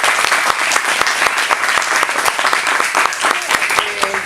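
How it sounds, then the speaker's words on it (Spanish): A lecture audience at a photography conference on advertising lighting breaks into loud, dense, sustained applause for the speaker, many hands clapping close together throughout. "un fuerte aplauso para Sergio González."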